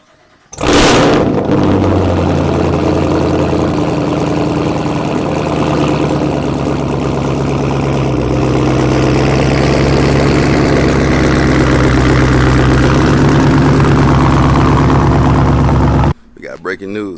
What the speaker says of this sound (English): So my sources gave me the cold start of the 2024 Camaro.